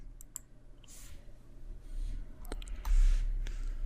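Sharp, isolated clicks of a computer mouse come at irregular intervals during a SQL Server software install, faint and close against a quiet room hum.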